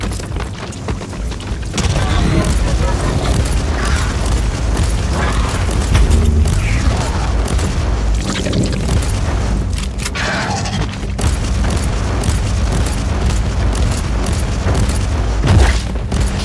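Booming gunshots from the Warhammer 40,000: Inquisitor - Martyr game, repeated heavy reports over a dense, loud mechanical battle din lasting throughout.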